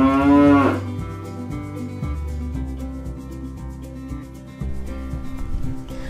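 Cattle lowing in a village outside Bangkok, one loud close moo at the start followed by ongoing rustling, rubbing farm noise with a steady background bed, no talking.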